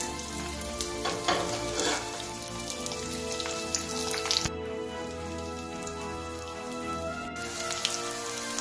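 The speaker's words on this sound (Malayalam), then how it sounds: "ഷാലോ ഫ്രൈ ചെയ്യാനാണെങ്കിൽ നമുക്ക് ഒത്തിരി എണ്ണ വേണ്ട. പയ്യെ ഓരോന്നോരോന്നായിട്ട് ഇട്ട് കൊടുക്കാം." Rice cutlets shallow frying in a little oil, a dense crackling sizzle like rain on a surface that carries on steadily and close, with a brief dip midway and a few sharper pops, no speech.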